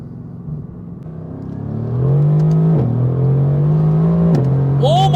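Mercedes-AMG GT R engine accelerating hard in Sport Plus mode, heard from inside the car as a loud, rising drone that holds near full throttle, with brief dips at quick gear shifts and no talk.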